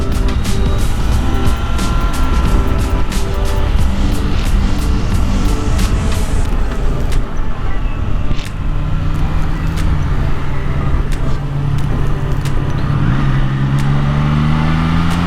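A 2022 Triumph Trident 660 motorcycle being ridden, its engine droning loudly and steadily close by with shifting pitch, wind rush and a few ticking clicks, and the revs sweeping upward near the end.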